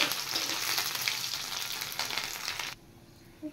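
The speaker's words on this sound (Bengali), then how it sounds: "শুটকি, লোটে শুটকি, এগুলো ভেজে তুলে নেব" Dried lote shutki (Bombay duck) fish fries in hot oil in a pan, a dense steady sizzle that cuts off sharply near the end, leaving near silence with a faint clink.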